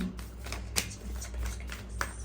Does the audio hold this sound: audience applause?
no